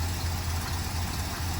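An old barn-find Pontiac V8 idles just after a cold start, its carburetor in need of rebuilding, with a steady low rumble close by and nothing else.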